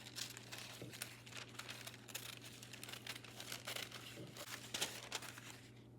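Paper crinkling and rustling as a decoration is cut out for a painted breadboard, a continuous soft crackle close by with a low steady hum underneath.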